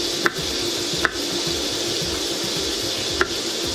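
A knife scoring a hot dog on a cutting board, three sharp taps spaced unevenly against a steady background hiss, close and clear.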